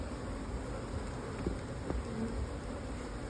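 Honeybees of Italian stock around an opened nuc hive, a faint, steady low hum of many bees close by, with a few soft knocks and no speech.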